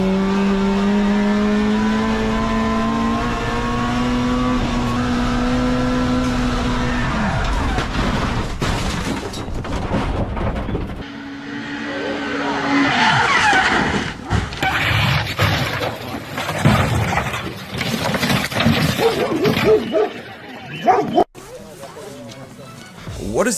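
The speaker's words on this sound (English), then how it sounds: "Here is a Honda Civic driver that crashed right when he crossed the finish line." A Honda Civic hill climb race car on cold slick rear tires, its engine whining at high revs, then crashing at the finish line in a clattering, scraping jumble of impacts, with a person talking over it.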